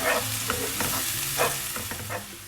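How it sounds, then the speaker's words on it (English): Chopped onions fry and sizzle steadily in a pan while being stirred, with scraping stirs cutting through the continuous close-up crackle, and no voices. "I'm going to fry the onion till it's nice and soft."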